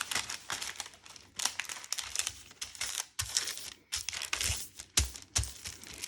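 Liner for a wooden soap mold is folded and creased by hand, producing close, repeated crinkling and crumpling bursts that come in quick irregular waves with short pauses.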